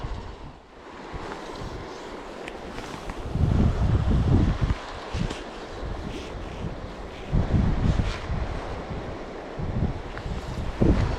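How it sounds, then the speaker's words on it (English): Strong gusty wind buffets a microphone beside a river during New Zealand fly fishing, with rushing low rumbles swelling and easing in repeated gusts, no voices. "this wind is no good"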